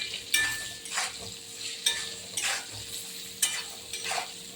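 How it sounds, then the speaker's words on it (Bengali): Soybean chunks and potato with turmeric being stirred in a pan, a spoon scraping in repeated sweeps about once a second over a soft sizzle, fairly close and moderately quiet with no talking. "পরিমাণ মতো হলুদ দেবো, দিয়ে নাড়াচাড়া দেবো।"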